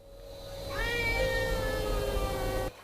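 A cat staying in a Paris cat hotel gives one long, drawn-out meow, close and clear, rising then holding before cutting off, with a faint steady hum behind it and no talk.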